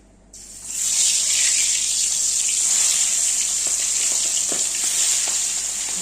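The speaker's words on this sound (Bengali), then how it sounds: "এখন মাছ ভাজবো। এই মাছ কিন্তু ভীষণ ফোটে।" Fish frying in hot oil, a loud sizzle that bursts on suddenly and holds steady, with scattered pops and spatters through it.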